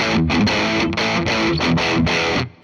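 A 2016 Gibson Flying V Pro electric guitar with coil-split pickups plays a short run of chopped, distorted chords with a biting, aggressive tone. It is loud and alone and cuts off just before the end.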